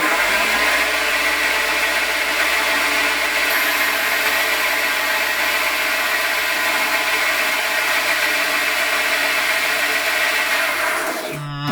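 A homemade lathe fitted with a DIY digital readout runs steadily, a continuous close mechanical whir and hum of motor and spindle that holds constant before cutting off abruptly at the end, with no one talking.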